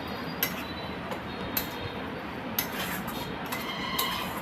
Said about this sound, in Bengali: ভালোভাবে গরম মশলাটাকে পুরো পটলের সাথে মিশিয়ে নিচ্ছি